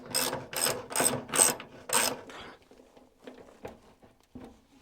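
A ratchet wrench works loose an old bolt on a Dexta tractor: five strong, evenly spaced bursts of clicking pawl strokes, close and loud, then softer scattered clicks and rubbing as the pace slows, with no talk.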